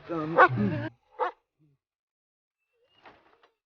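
A dog in an episode of The Chosen gives one short bark right after a stretch of talk, and faint, distant yips follow near the end.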